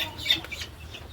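Brief, moderately close clucking from fancy crested Kottakkal chickens, a couple of quick calls over a low steady hum.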